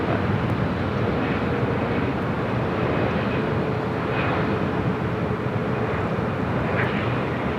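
Delta heavy Airbus jet on short final to land on runway 24 right at LAX in light wind, a steady loud broadband engine roar that holds constant throughout, with no talk.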